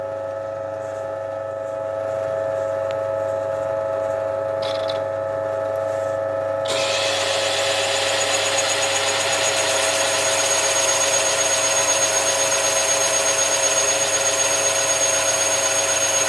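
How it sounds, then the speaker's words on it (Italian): Diamond-coated bit drilling through glass with liquid, a steady grinding hiss that sets in sharply partway through and keeps a constant high tone under a low motor hum, with no talk. "Alzando e abbassando la fresa più volte, permettiamo al liquido di entrare all'interno della scanalatura"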